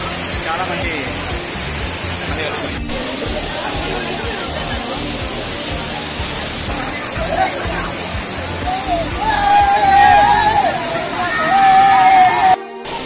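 Water flows and splashes at Gundala waterfalls near Tirupati, a continuous rushing slosh that grows louder toward the end, with people talking and crowd babble mixed in.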